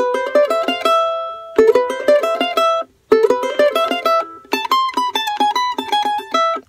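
A charango plays the Alma Llanera melody, rapid bright plucked notes in short bursts separated by brief gaps, close-up and solo with no voices.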